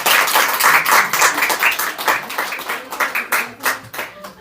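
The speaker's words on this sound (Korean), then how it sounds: "여러분 다 같이 박수 쳐주시기 바랍니다." A church congregation claps together after an infant baptism on Easter Sunday, close and lively, with distinct rhythmic pulses that swell and ease as it continues.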